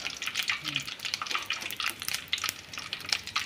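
Curry leaves crackling and sizzling in hot coconut oil for chicken fry, a dense, steady spitting hiss with sharp pops throughout, close and fairly loud.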